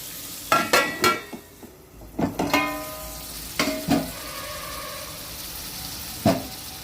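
Raw prawns and lady's finger okra get stirred in a frying pan with a spatula, giving a run of sharp scraping clacks in quick bursts over a soft steady sizzle, close and without voices.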